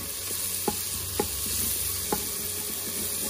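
Pot roast browning on the sauté setting of an Instant Pot, with a soft continuous sizzle under a low hum and three or four light utensil knocks against the pot.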